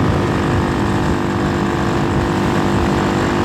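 Honda Hawk 250 motorcycle with a swapped-in Loncin RE250 engine, ridden on an open road, its engine humming loud and steady amid wind rush with no talking.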